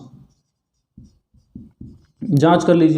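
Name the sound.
writing a maths solution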